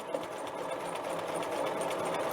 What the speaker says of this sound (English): I'm just going to run that basting stitch around, keeping that edge lined up with the left edge of my presser foot